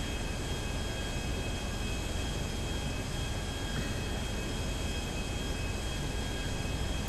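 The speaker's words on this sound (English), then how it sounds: "I'm in a plane." A plane in the video game GTA 5 flies with a constant, even engine drone and rushing air that holds steady without change for the whole stretch.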